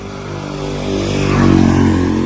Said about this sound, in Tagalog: Pasensya na sa mga dumadaan na sasakyan kasi ano,